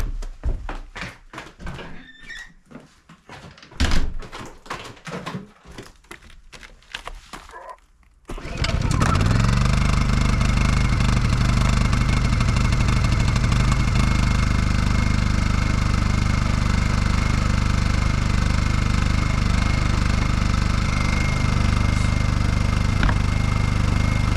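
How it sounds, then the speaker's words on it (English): A generator at a cabin in the woods on a cold winter day: a few clunks and handling noises, then the engine catches at about eight seconds and runs with a loud, steady drone that continues to the end. "I'm gonna go start the generator now"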